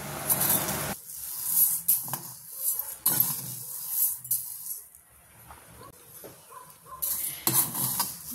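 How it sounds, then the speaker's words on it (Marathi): Horse gram dry-roasting in a pan and stirred with a utensil, giving scraping, rattling strokes with soft sizzle in an irregular rhythm, close and moderately quiet. "बरें भाजून घेवपाचें कुळीत"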